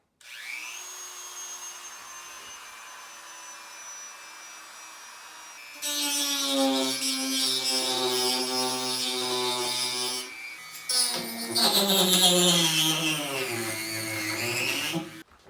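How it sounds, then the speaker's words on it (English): A Dremel rotary tool spins up with a rising whine, then bites into the plastic binding of an acoustic guitar with loud, grinding buzz in two close cutting passes separated by a short pause. "It does not appear that I've cut all the way through the plastic."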